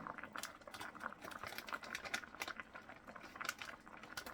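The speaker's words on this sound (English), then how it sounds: "See how that boil slowed down." Water at a rolling boil in a small electric hot pot, a steady bubbling patter with irregular crackles that runs continuously at moderate, close volume with no talk.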